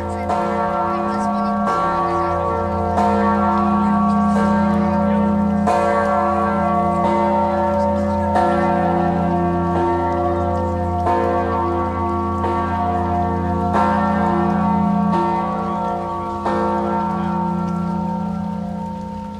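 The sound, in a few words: large bell struck and ringing out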